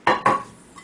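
Coleman enamel dinnerware plates clink as they are pulled apart, two sharp close metallic knocks followed by a faint ringing tail and a tiny tap at the end.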